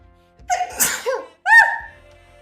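A man sneezes twice in quick succession, close and loud, the second burst sharp and trailing off, with no talk around them.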